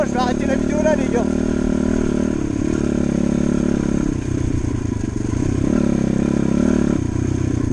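A small moped engine being tested after a rebuild, revving in short bursts and then settling into a rough, steady idle, loud and close throughout.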